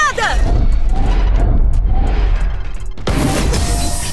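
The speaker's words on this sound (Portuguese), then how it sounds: "Granada!" A grenade blast in Valorant, a loud booming burst near the end of a busy firefight, following heavy gunfire and clatter under an excited player shouting.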